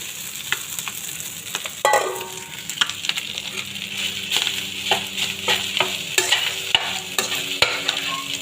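Rice is stir-fried in a hot pan with a steady sizzle and a clatter of a utensil scraping and tossing, close and alone.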